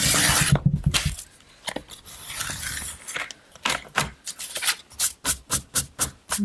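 A craft blade slices through art material in a run of short, rhythmic rasping strokes, close and fairly loud, the cuts quickening into evenly spaced scrapes toward the end.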